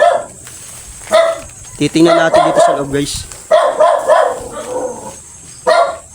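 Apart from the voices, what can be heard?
many dogs barking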